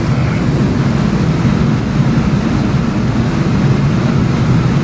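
Embraer E-195 jet engines in Flight Simulator X climbing past 10,000 feet, a steady, loud, continuous low-pitched roar with an even rumble throughout and no other sounds.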